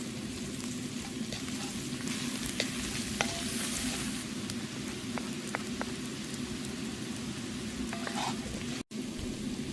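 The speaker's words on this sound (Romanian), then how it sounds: "lăsăm să se mai frigă" Meat and sausage fry with onion in a cauldron over an outdoor fire, a dense, steady close sizzle that never lets up, dotted with small pops and crackles.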